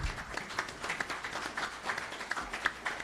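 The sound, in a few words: audience applause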